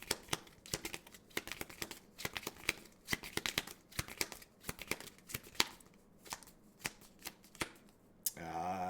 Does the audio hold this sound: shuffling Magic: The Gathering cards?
yes